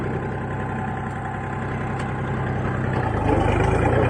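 A 24 hp mini tractor engine runs steadily at a low idle, then its note deepens and grows louder after about three seconds as the tractor pulls away in gear. No one speaks.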